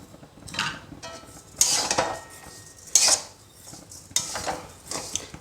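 Stirring grated coconut with sugar in a pan for coconut naru: a utensil scrapes and knocks against the pan in irregular bursts, close and clear, with no talking.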